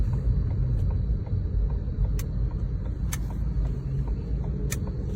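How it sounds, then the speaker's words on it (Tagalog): A car on a test drive with a worn rubber belt spinning produces steady low road and engine rumble, with a faint continuous whine and a few sharp ticks over it, with no voices present. "Parang tunog belt gomang umiikot."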